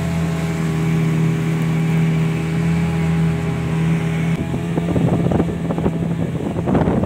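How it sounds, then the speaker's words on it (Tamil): A four-seater speedboat on the water at Muttukadu boat house off ECR gives a steady, close engine drone with a low hum, joined by rougher splashing and wind bursts toward the end. "இப்போ எதிரில் போயிட்டுருக்குறது 4 பேர் போகிற ஸ்பீடு போட்."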